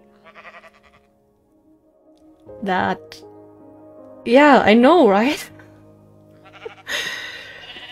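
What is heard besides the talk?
sheep bleating in the video game Minecraft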